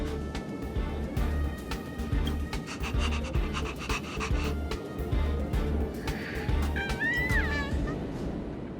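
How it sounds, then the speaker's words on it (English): A cute dog in a video game pants steadily over continuous game background music and ambience, with a couple of brief cat-like meows rising near the end. "What a cute doggy!"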